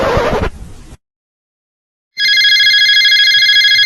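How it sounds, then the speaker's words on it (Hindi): Telephone ringing: a loud, bright electronic ring that starts abruptly after a short silence and continues steadily, following a brief burst of other noise at the start. "आ रहा फोन।"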